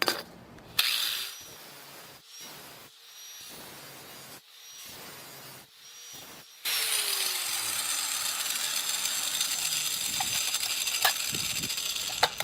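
A metal can being cut, with a handful of short, sharp clattering bursts followed by a steady, loud, harsh grinding noise that continues to the end.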